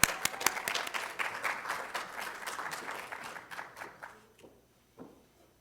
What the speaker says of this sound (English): So let's give Evelyn a round of applause.